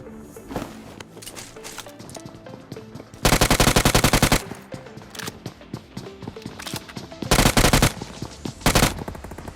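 Loud bursts of automatic gunfire in the BGMI (PUBG Mobile) battle royale game, with dense rapid volleys in several clusters over a busy backdrop of game music and effects.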